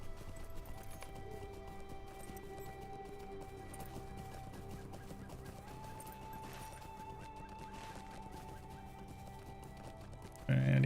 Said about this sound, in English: let's just get on the normal steed and have a little jolly around here